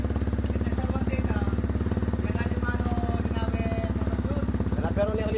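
A motorcycle engine runs steadily up close, a rapid, even, throbbing putter that holds the same pace throughout.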